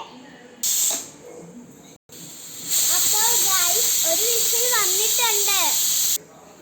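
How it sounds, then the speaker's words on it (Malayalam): A pressure cooker boiling eggs on a gas stove gives a loud, sustained high-pitched whistling hiss that cuts in briefly, then holds steady, while a voice chatters and squeals over it. "ഇത് ഗ്യാസിൽ വെച്ച് ഗ്യാസ് ഓൺ ആക്കാം ഒരു വിസിലടിക്കുമ്പോഴത്തേക്കും മുട്ട വേകും"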